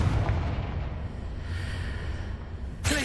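A Confringo fire spell blast cast in the video game Hogwarts Legacy, a loud low rumbling burst that swells and holds for a few seconds, with a sharper crack near the end.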